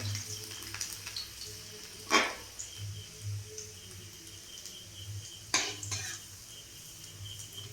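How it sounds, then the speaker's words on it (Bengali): Chopped garlic dropped into hot oil in a kadai gives a steady, soft frying hiss, broken twice by louder metallic scrapes of a spatula against the pan. "কেটে রাখা যে রসুন কুচি ছিল ওটা তেলে ছেড়ে দিলাম, দিয়ে এটাকে ভাজতে হবে।"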